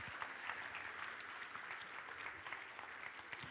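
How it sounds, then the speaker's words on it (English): Audience applause at an emerging markets forum, a steady wash of clapping from a seated crowd lasting several seconds, moderately loud with no voices over it. "Please, can we give her a round of applause?"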